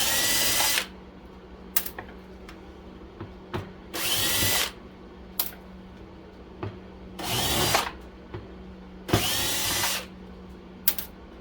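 A power screwdriver removing screws from an air fryer during a teardown, several short whirring bursts of a second or less separated by pauses and small clicks of handling, close and clear.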